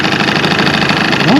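A first-generation Honda Live Dio ZX scooter idles with a faulty muffler giving off a rapid, steady rattle over the engine drone, close by, with a brief voice near the end.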